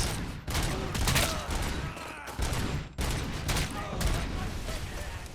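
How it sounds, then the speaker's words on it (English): Dense gunfight in the Robocop Rogue City video game, rapid overlapping gunshots and bursts of fire with debris impacts, loud and continuous with brief gaps between volleys. "this game can get pretty intensive, again, on gunfights such as this one"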